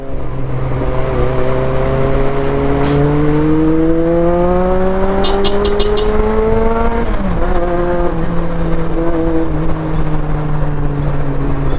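A Honda CB400SF motorcycle engine accelerates hard nearby, revving high, its pitch climbing steadily before a quick shift drop, then holding a loud sustained drone.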